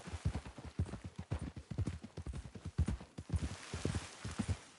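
Rapid, steady clip-clop of horse hooves as a rider travels in Red Dead, the hoofbeats close and continuous over a quiet outdoor ambience with no talking.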